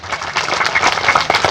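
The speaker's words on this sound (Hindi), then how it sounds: "कबीर साहब के नाम पर जोर जोरदार ताली बजा देवे के चाहिए" An audience at a Kabir saint gathering in Janakpurdham bursts into brisk applause, a short, close burst of many hands clapping together.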